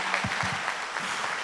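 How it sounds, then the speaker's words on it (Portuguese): Congregation applause during a children's church musical, a brief, soft, steady patter of many hands clapping. "Vamos aplaudir o Senhor mais uma vez?"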